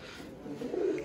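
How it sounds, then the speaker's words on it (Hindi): Pigeons softly cooing in a loft, a faint, low throaty murmur that swells slightly toward the end of the short stretch. "देखो आप सभी भाई कि चिंटू भाई पे कबूतर कैसे कैसे हैं"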